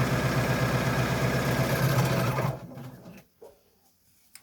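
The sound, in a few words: overlocker or zigzag stitch neatening a seam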